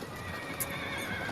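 A horse whinnies amid the clatter of hooves, staged as a dramatic effect for a biblical audio drama about chariots and horses, layered densely and steadily throughout with a brief bright accent partway through.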